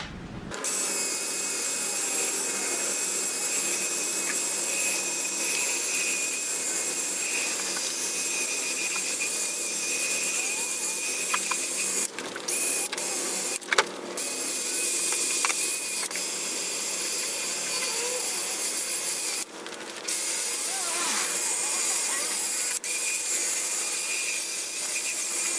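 Hand sanding a car headlight lens with 800 grit sandpaper, a continuous close scratchy rasp that goes on for the whole stretch with only a few brief breaks.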